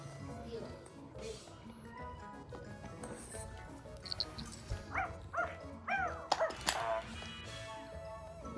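A puppy gives short high yips and barks at close range in a busy family home, with several people talking loudly around it.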